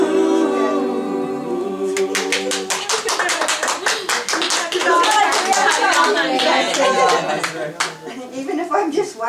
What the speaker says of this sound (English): I always have to clap.